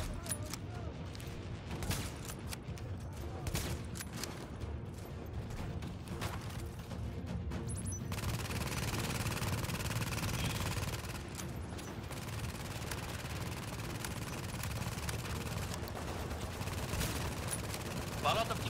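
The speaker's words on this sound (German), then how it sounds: "Ja, so eine scheiß Maschinenkanone denn. Ja, so eine automatische." Dense, continuous gunfire in Tom Clancy's The Division on PC, with rapid automatic cannon bursts and booms filling the scene, sometimes under a talking voice.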